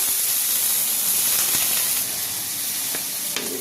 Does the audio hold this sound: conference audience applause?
no